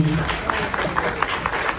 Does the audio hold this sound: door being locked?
no